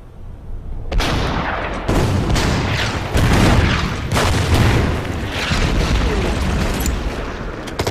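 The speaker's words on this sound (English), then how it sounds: "And then we need to hit that heavy tank with the artillery." Artillery in the wartime strategy game Order of Battle fires on a heavy tank, a series of loud, booming blasts and rumbling impacts repeating every second or so with no pause between them.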